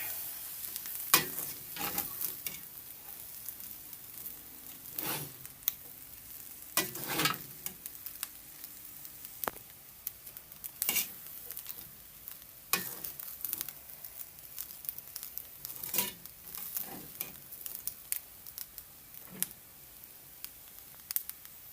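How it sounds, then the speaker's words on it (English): Frankfurter pieces frying in a pan for egg fried rice, with a steady sizzle broken by repeated scraping stirs that come in bursts throughout, close and moderately loud. "Add my frankfurter. Giving it a stir."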